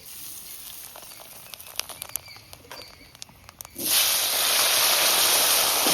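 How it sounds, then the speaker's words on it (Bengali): Fish roe and cumin seeds drop into very hot oil: faint scattered crackles give way abruptly to a loud, steady, close sizzling hiss that fills the rest of the clip. "ডিমগুলো ভেজে নিচ্ছি। জিরে ফোড়ন দিয়ে দিচ্ছি।"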